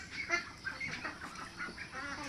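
Ducks on a small duck farm give a busy run of overlapping clucking calls, close and fairly faint, with no voices.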